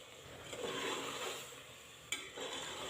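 Mutton with ginger being fried in a pot, a soft sizzle under scraping stirs, with one sharp clink of the spoon against the pot near the end, fairly faint and without talk.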